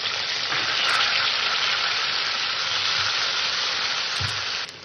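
Chopped tomato hits a pan of fried ginger paste and sizzles, a loud, steady frying hiss close by that continues evenly throughout with no talk.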